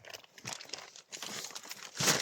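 A plastic bag crinkles and rustles close by in irregular bursts, growing louder near the end, while crucian carp fishing from a boat just before the winter frosts.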